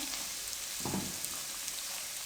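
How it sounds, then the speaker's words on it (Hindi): Semolina roasting in a pan with ghee while Egg Suji Halwa is being cooked gives a faint, steady sizzle. A brief scrape of stirring breaks in near the one-second mark. "अब हम सूजी को उस वक्त तक अच्छे तरीके से भूनेंगे जब तक इसकी खुशबू ना आ जाए"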